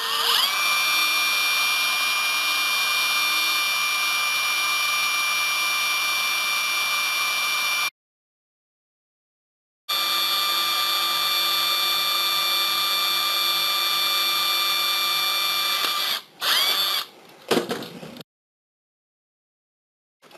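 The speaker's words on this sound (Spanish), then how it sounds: "Pues vamos a tener que taladrar justamente ahí." A power drill bores into the plastic shell of a PS4 controller, running as a loud, steady high whine for about eight seconds, pausing, then spinning again for several seconds before a few short stuttering bursts as it finishes.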